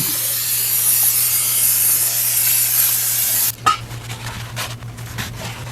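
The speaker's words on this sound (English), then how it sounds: "Brake clean." Brake cleaner sprayed from an aerosol can onto a transmission pan: a loud, close, continuous hiss lasting a few seconds, then it stops, followed by small handling clatter.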